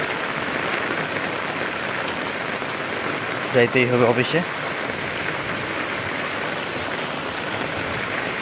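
Heavy monsoon rain pours steadily in Chattogram, Bangladesh, a dense, loud, continuous hiss of downpour on surfaces, with someone speaking briefly over it midway.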